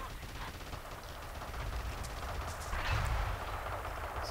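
Artillery fire in a WWII war video game set at Sidi Rezegh, heard as distant booms and rumbling impacts over ongoing battle noise, with a heavier blast swelling near the end.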